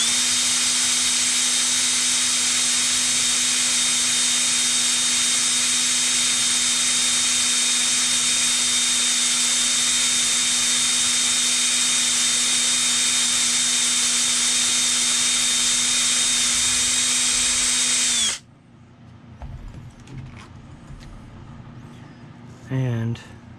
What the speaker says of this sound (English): just let the drill bit and the speed do the work